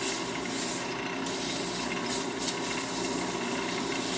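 Wooden yo-yo being sanded or filed to remove sharp edges and burrs, a continuous close rubbing rasp with steady loudness and no pauses.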